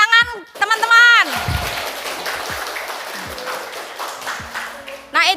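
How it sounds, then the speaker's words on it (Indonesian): Students in a high school economics classroom clap after a classmate presents, a brief burst of applause that fades to scattered claps, with a voice speaking before and after it. "Beri tepuk tangan teman-teman."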